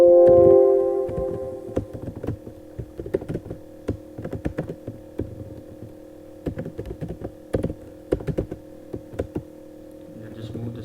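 Python code is typed on a computer keyboard in quick irregular bursts of clicking keystrokes, close by, following a brief hum at the start, with no voice over the typing.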